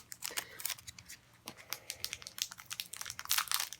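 Plastic-wrapped packs of tiny Tiny Epic Dinosaurs game cards are torn open, giving close, bright crinkling and ripping in irregular bursts that grow busier toward the end, with no talk.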